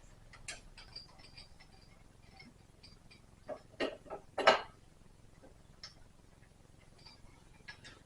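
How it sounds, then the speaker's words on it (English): A wrench turns a bolt a quarter turn at a time during a Lotus Esprit engine pull, giving sparse metallic clicks and ticks and a brief cluster of sharper knocks midway against a quiet workshop background. "you're just taking a bolt and you're turning and you're turning and you're turning and you're turning because you get a quarter turn at a time"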